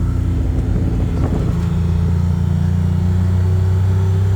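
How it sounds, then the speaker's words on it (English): The motor of a small belt-drive vehicle hums and drones steadily as it is driven at moderate speed. The loud, close engine tone rises slightly in pitch partway through. "It's a good sound of motor, that's for sure."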